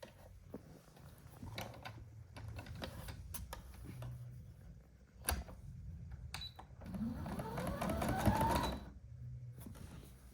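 A sewing machine stitching a reversible patka gives faint, intermittent mechanical clatter in short bursts separated by pauses and handling clicks, quiet throughout, with no talking.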